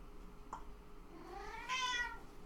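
A cat meows once with a rising and falling tone, a clear mid-level call standing alone against a quiet room background.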